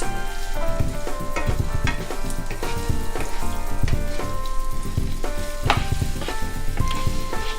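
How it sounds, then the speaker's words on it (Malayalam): Egg mixture frying in a pan for Malabar stuffed plantain fry, with steady close sizzling and frequent scraping stirs, the clatter of a spoon on the pan repeating throughout. "മുട്ടക്കൂട്ട് ചേർത്ത് 1 മിനിറ്റ് ഒന്നിങ്ങനെ വെയിറ്റ് ചെയ്തതിന് ശേഷം ഇളക്കി കൊടുത്ത് ചിക്കിയെടുക്കുക"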